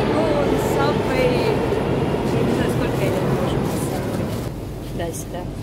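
A Moscow subway train rides along in a steady, loud rumble and roar of wheels and carriage noise inside the car, continuous throughout with faint voices.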